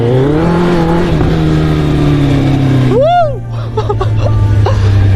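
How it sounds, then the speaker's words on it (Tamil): A modified car with an aftermarket exhaust revs loud and close, its engine droning and shifting pitch, then dipping briefly before roaring on. "எனக்கு கார் சத்தம் ரொம்ப பிடிக்கும். கார் ஆஃப்டர் மார்க்கெட் பண்ணா அதே தான் கைஸ்"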